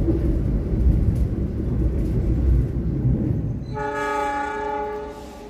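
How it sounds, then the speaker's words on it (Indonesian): The Turangga 66 passenger train crossing at Warung Bandrek station, a loud steady rumble of rolling wheels, then a sustained multi-tone horn blast near the end as the rumble fades. "bersilang dengan kereta api Turangga 66"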